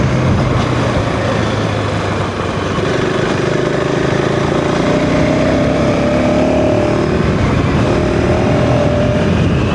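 A 2025 KTM 390 Enduro R ridden off-road, its single-cylinder engine droning loud and steady up close, pitch rising and holding through the run amid wind and rough-ground rumble.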